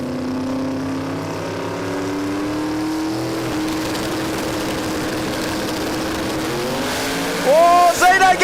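Drag racing cars at Willowbank Raceway roar steadily with a sustained engine drone and rising tones, while a race commentator talks over it. A sharper tire or engine whine breaks out near the end.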